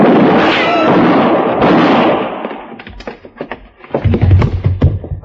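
A radio drama shootout, with a rushed, noisy scuffle followed by a rapid series of sharp gunshot bangs and pops, several close cracks clustered in the final seconds.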